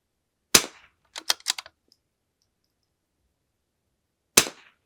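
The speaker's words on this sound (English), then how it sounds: "There's only 2 shots." Two sharp rimfire rifle shots at an outdoor range, the first near the start and the second about four seconds later, each a loud crack with a short decay, with faint clicks of handling between them.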